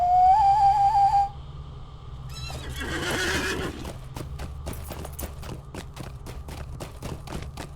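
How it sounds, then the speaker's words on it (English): In the game The Lord of the Rings Online, a horse whinnies loudly, then a short whoosh, followed by steady rhythmic clip-clop of hooves at a quick trot, game-like and clean. "let me hop on my horse"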